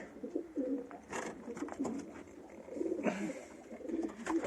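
Pigeons coo softly and repeatedly inside a pigeon loft, with low murmuring calls, light rustling and a few sharper noises, fairly faint and close.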